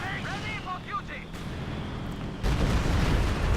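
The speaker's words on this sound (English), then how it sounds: "Stuka barrage coming in" A Stuka dive-bomber barrage in Company of Heroes 2, a dense rumbling roar of explosions and artillery that swells abruptly louder partway through, with brief whistling tones early on.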